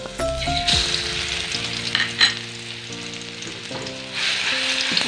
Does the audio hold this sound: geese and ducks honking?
no